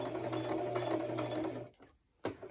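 Sewing machine stitching appliqué fabric around the bottom of a tree shape, a steady close whirring hum that stops after about a second and a half, followed by a brief clunk of the machine.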